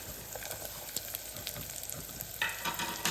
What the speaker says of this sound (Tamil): இப்போ நம்ம இந்த காய்கறியெல்லாம் சேர்த்துடலாம் கேரட்டு பீன்ஸு குடமிளகா